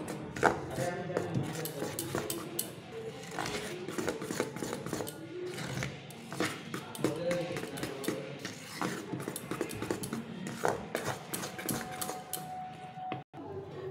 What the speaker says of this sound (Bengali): ইনো দিয়ে একটু ফেটিয়ে নেব